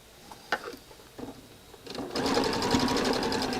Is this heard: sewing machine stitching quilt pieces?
yes